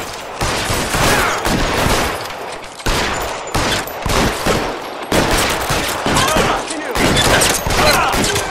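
Gunfire during a shootout in the 1940s Los Angeles detective game L.A. Noire: dense, continuous volleys of sharp shots, loud and near, in several rapid bursts with brief gaps between them.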